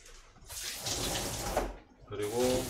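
Cheongyang chili peppers are rinsed under running tap water, with a close, gushing splash that pauses briefly and then resumes, as in a kitchen sink.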